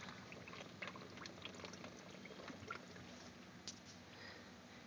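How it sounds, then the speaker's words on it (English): Ice water is pumped into a homemade condenser on a nitric acid distillation setup, giving a steady, close rush of pouring, gurgling liquid with small splashy spikes throughout. "So here's a condenser filling up with ice water."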